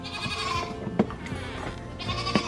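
Several goats bleat close by, overlapping calls rising and falling, with a couple of sharper knocks among them.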